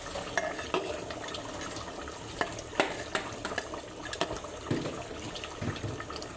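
Duck meat braising with coconut milk in a clay pot, a steady simmering sizzle with scattered stirring scrapes and clinks, fairly close and alone without talk.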